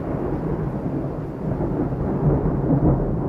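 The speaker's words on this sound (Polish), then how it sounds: "Ale grzmi." Heavy rumbling thunder rolls on continuously during a thunderstorm, loud and deep, with rain noise beneath it and no voices.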